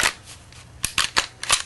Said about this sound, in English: And put the slide back on the frame.